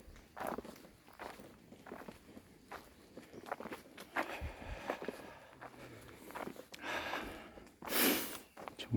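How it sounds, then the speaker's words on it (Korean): Footsteps crunch along a quiet path in the Chukryeongsan cypress forest at Jangseong, a steady walking rhythm close to the ear, with breathing and a louder rustle near the end. "이 발소리 들리죠?"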